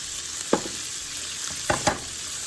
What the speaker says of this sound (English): we're just gonna saute these for about 5 to 7 minutes in our garlic butter